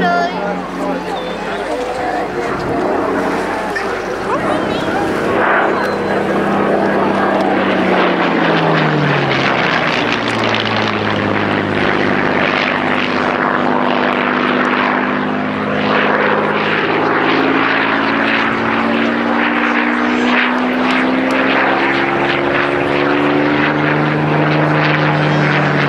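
A PR Spitfire reconnaissance propeller aircraft flies past at the Shoreham airshow. Its engine roars loud and steady throughout, the pitch sliding down as it passes, with a commentator's voice heard faintly underneath.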